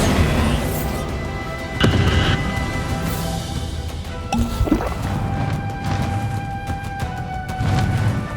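Confringo and Bombarda spell blasts in Hogwarts Legacy, several sharp crashing booms spaced a second or two apart, mixed with whooshing impacts over a steady bed of battle music.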